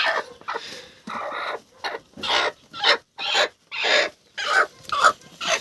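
A broody hen clucks in a steady series of rough, squawky bursts, about eight calls with short gaps, close and fairly loud with no talking.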